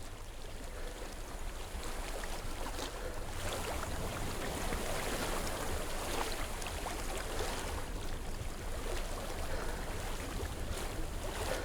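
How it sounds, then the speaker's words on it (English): Steady rushing of a stream in the video game Hellblade: Senua's Sacrifice, a continuous broadband wash of flowing water with no talk, holding an even level throughout. "I hear water."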